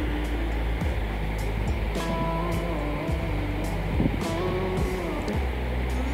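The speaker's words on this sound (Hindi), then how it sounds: "अब मैं ब्लेंडर चलाऊँगी, जूसर ब्लेंडर, और इसका स्मूथ सा एक प्योरे बनाऊँगी" A juicer blender blending peaches into a puree, a loud steady whir with low rumbling churn and small surges throughout, close by with no talking.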